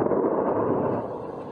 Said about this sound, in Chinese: 當地星期六凌晨傳出多下爆炸聲